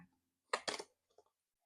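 A few small coins drop and clink onto a hard surface in a brief cluster, followed by a couple of fainter settling taps, close and otherwise quiet.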